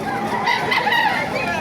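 A rooster crows loudly and close by at a chicken market in Baliuag, Bulacan, one long drawn-out call with a rising and falling tone.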